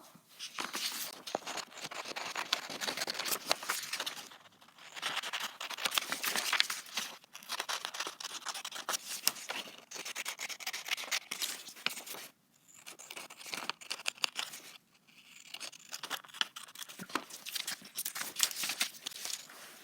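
Paper puzzle sheet being cut apart with scissors into three pieces, giving a close run of crisp snipping and crinkling bursts with brief pauses, no talking.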